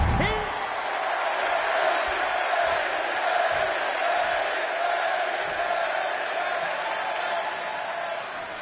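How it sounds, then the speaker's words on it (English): Loud arena crowd cheering and roaring in the WWE 2K26 wrestling video game, a steady wall of noise for a Chicago crowd as CM Punk faces Eddie Guerrero, with scattered whoops and thuds throughout. "And just listen to this crowd here in Chicago."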